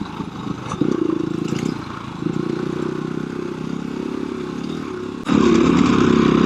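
A KTM 350 dirt bike rides along a forest trail, its engine droning steadily up close, easing off briefly and then rising louder near the end, with rattling and scraping from the rough ground.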